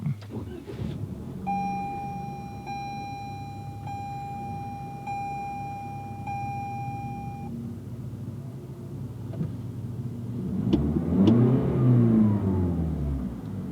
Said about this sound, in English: you just hold the clutch, push in the brake, and push this button right here to start it up